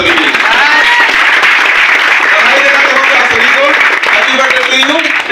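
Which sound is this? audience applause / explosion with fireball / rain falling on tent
audience applause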